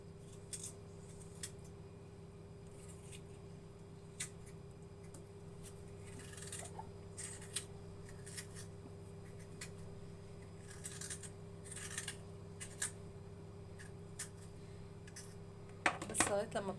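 Potato core being hollowed out for stuffing, with soft intermittent scraping and clicking of a corer against the potato over a steady background hum, close and quiet.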